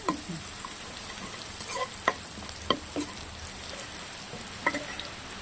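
Potato fry sizzles in a pan while a spoon stirs it, giving scattered sharp clinks and scrapes over a steady frying hiss, with no talking.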